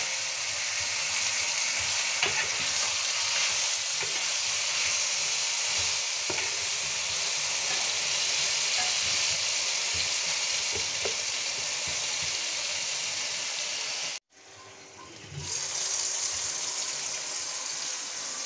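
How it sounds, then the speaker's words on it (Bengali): Onions and an egg fry in a pan with salt, a steady dense sizzle with occasional stirring scrapes that runs nearly the whole time, broken by one brief drop near the end before resuming. "পেঁয়াজগুলো ভাজা হচ্ছে।"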